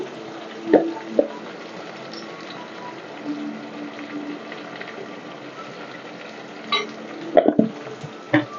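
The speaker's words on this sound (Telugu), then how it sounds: "ఇప్పుడు మనకి ఉల్లిపాయలు వేగాలి" Onions frying in a pan with turmeric for Andhra-style prawn gongura curry, a soft steady sizzle throughout with a few louder clinks and stirring knocks near the start and end, no talking.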